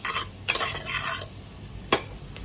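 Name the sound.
papaya and potatoes added to frying onions, stirred in pan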